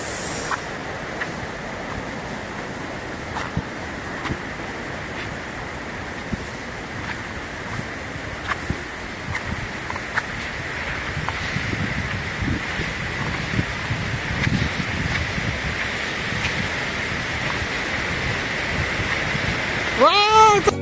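Zenith waterfall at Khopoli pours with a steady broadband rush of falling water, heard at a distance under wind buffeting on the microphone, with people talking intermittently over it.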